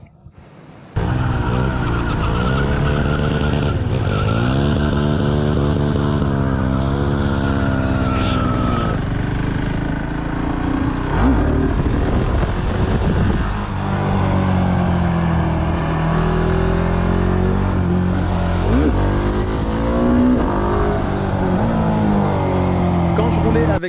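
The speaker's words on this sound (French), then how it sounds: "cela, combiné au quick shifter, faisait que parfois cette moto sonnait vraiment génialement." A 2019 Husqvarna Svartpilen 701 single-cylinder motorcycle fitted with an Akrapovic exhaust and quick shifter roars loudly while riding, revving up through gears with rising and falling pitch sweeps and sharp shift breaks, close and continuous throughout.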